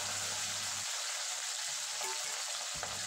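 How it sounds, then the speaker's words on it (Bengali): Pabda fish frying crisp in hot oil in a pan, a dense, continuous sizzle close up with a low hum at times underneath, no voices present. "উল্টে পাল্টে কড়া করে পাবদা মাছগুলো ভেজে নেব"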